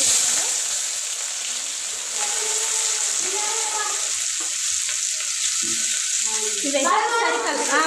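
Chopped onions sizzle steadily in very hot oil for a mushroom curry, a constant bright crackle with a few stirring scrapes near the end and faint voices in the background.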